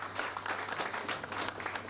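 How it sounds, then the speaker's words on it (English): Audience applause at a conference inauguration ceremony after a felicitation, steady dense clapping from a crowd that carries evenly through the whole moment at moderate loudness. "A big round of applause"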